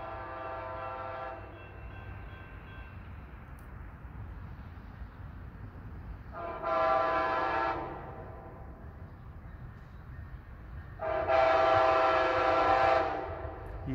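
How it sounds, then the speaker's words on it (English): A northbound train approaches along the line, its horn sounding in three blasts, the first fading out, the later two louder and longer, over a steady low rumble of the passing train. "Here comes the northbound. 2 hours since our last train."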